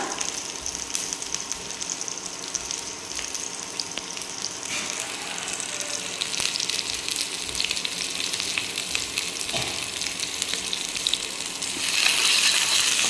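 Onions frying in oil in a pan, a steady dense sizzle that runs on evenly throughout and swells slightly louder at the end, close up with no voices.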